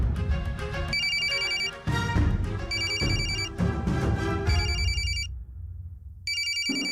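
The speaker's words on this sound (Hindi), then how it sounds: "पल्लवी का फोन, बात कर" A telephone rings with a repeated electronic ringtone in bursts over a music-heavy soap drama scene, loud and close, stopping briefly before resuming.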